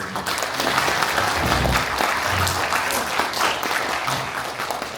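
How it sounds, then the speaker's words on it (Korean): Audience applause welcoming a professor's first presentation at a Korean academic seminar on Seon Buddhism, a continuous even patter of clapping, fairly loud and sustained throughout. "큰 격려의 박수 부탁드리겠습니다"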